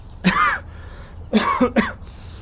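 A man coughs close by, a single rough cough followed after a pause by two more quick hacking coughs.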